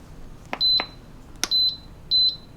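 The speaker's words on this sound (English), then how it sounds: "I wish you could customize those ringtones when you put the lid on and off." Instant Pot electric pressure cooker lid being locked into place: soft clicks, then three short electronic beeps spaced evenly, clear and close in a quiet kitchen.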